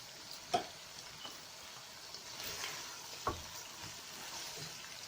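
Chicken browning in a pot with yogurt and biryani masala, a soft steady sizzle with a few sharp ticks and stirring clinks near the start and middle, fairly quiet and close with no talking.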